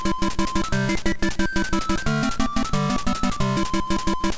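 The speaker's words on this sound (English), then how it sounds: "recent Kirby music sounds like this." Recent Kirby video game music: a bright, bouncy synth tune with punchy rhythmic chords and a steady driving beat, loud and continuous with no talking.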